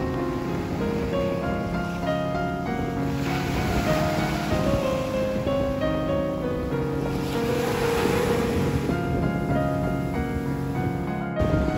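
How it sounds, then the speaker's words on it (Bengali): Steady ocean surf and wind at Palm Cove Beach in Cairns, Queensland, a continuous, fairly loud roar of breaking waves with gusty air that swells around the middle and again near the end. "বাতাস, সমুদ্রের ঢেউ, সত্যি অদ্ভুত এক ভালো লাগা কাজ করছে"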